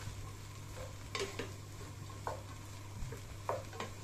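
Kande poha, flattened rice with onions and lemon, is stirred in a pan, with a spoon scraping and tapping against the metal in a few soft strokes over a low background hum, close and fairly quiet, with no speech.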